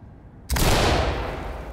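A flashbang grenade detonates in the tactical shooter Ready Or Not, a sudden loud blast after half a second of quiet, followed by a sustained bright ringing wash that slowly fades.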